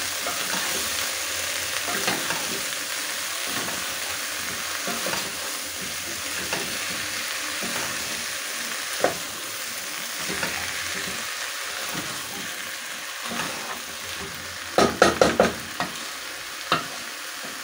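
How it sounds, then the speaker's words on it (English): Ingredients are stirred into food frying in a pan. A continuous sizzle runs under repeated scraping strokes, and a burst of louder clatter comes near the end. "Then I'm going to stir this in."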